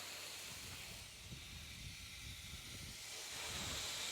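An OxiClean car wash sprayer rinses a vehicle, making a steady, close hiss of spraying water that stays even throughout and swells slightly louder near the end.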